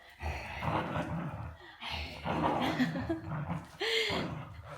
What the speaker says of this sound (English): I think he sounds like a crazy, scary dog.